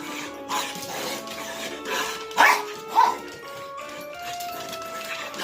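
Small dogs scuffle with whimpers and soft yips, then let out two sharp, close barks in quick succession, while a person's voice sounds nearby.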